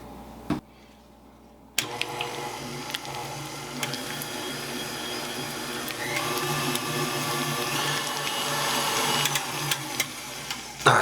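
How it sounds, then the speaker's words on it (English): Electric mixer creaming butter for devil's food cake frosting, a steady motor whir with rattling beaters that starts abruptly after a short quiet moment and runs continuously, close and fairly loud. "And we're just going to cream this butter."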